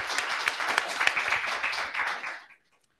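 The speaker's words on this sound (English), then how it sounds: "Give her a hand." An audience claps and applauds for a guest at a disability housing support meeting, a dense wash of clapping that holds steady for about two seconds, then fades quickly into silence.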